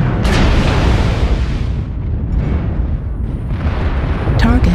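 Missile explosions in MechWarrior Online come as a series of loud, heavy booms and rumbling bursts rolling one into another, with a few sharper cracks and a voice speaking over them.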